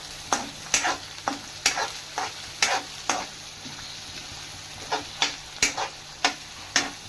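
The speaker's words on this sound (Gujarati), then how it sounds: "તો હવે એમાં નાખીશું આપણે કેપ્સિકમ. અને આપણે હલાવી દઈશું." Capsicum stirred and frying in a pan, with a soft continuous sizzle under a series of sharp spatula scrapes and taps on the pan at irregular intervals, close and fairly quiet.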